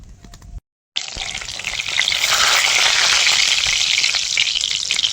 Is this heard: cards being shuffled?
no